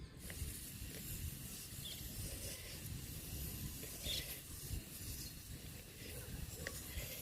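A homemade mixture is sprayed onto a mealybug-infested plant, giving a faint, continuous hissing spray with a few small clicks, steady and quiet throughout.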